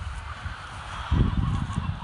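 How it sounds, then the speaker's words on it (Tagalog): Chickens on a small backyard farm in Batangas make low, muffled clucking calls. The flock is faint and distant at first, then a closer burst of clucks swells up midway. "Huni ng manok ang naririnig mo."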